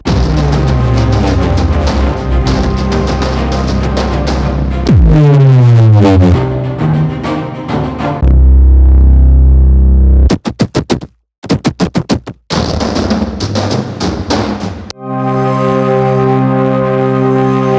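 Heavily compressed music rings out through a compressor plugin with parallel processing, drive, gritty distortion and fuzz, loud and dense, broken by abrupt stuttering cuts and brief gaps before a sustained tone returns.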